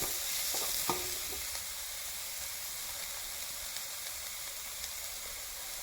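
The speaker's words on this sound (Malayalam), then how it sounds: "അരിഞ്ഞു വെച്ച സവാള ചേർത്ത് കൊടുക്കാം." Chopped onions sizzling steadily in a hot pan with a little salt, close and even, with a few sharp utensil clicks and stirring scrapes early on, no talking.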